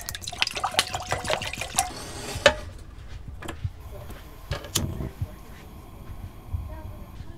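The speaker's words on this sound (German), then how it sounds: "Wir füllen das Wasser jetzt in den Topf." Tap water running into a cooking pot for Brussels sprouts in a home kitchen, a fairly quiet splashing and trickling with a few clinks, heard under continuous talking.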